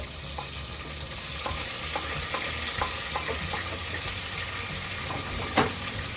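Tomato, with onion, sautés in a pan for pork sinigang, giving a steady, close frying sizzle with occasional light clicks of stirring and one sharper knock near the end.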